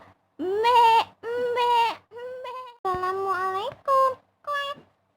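A human voice imitates a mini sheep bleating in a children's story, producing six loud, close, wavering bleats of varying length separated by short pauses, with no other sound.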